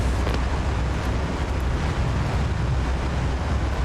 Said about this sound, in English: Engine's good. Airspeed's coming alive.